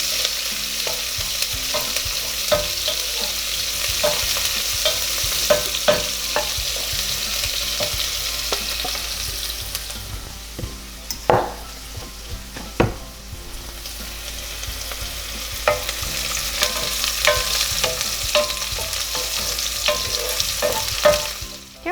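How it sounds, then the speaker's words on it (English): Onions fry steadily in a pan for a rice and potato pilaf, with a continuous sizzle, occasional stirring clatter, and a few sharper utensil knocks near the middle. "add the onions. And I want them to get nice and golden brown."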